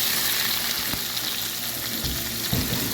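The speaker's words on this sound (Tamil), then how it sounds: "வெங்காயம் கூட கருவேப்பிலையும் சேர்த்துருக்காங்க நல்லா வதங்கட்டும்" Onions and curry leaves sautéing in a pan for a pomfret fish curry: a dense, steady sizzle with a few soft knocks of stirring, close and without talk.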